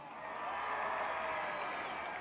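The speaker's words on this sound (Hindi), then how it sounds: "इनके लिए भरपूर तालियां।" A large outdoor crowd at a PTI rally in Jhelum applauds and cheers in a steady, broad wash of noise that holds evenly throughout.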